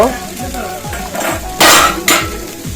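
Potato, pointed gourd and spices stir-fried in a pan, with close scraping and stirring, soft sizzling and a couple of louder clattering scrapes near the end, under faint background voices.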